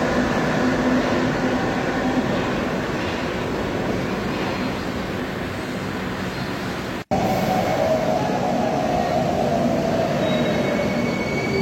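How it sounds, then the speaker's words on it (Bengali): A Kolkata Blue Line metro train pulls into Tollygunge station with a loud, steady rumble and rush, cut by a brief break before the roar resumes with a rising wheel squeal as it slows, no voices. "আমাদের ট্রেন এসে গেল"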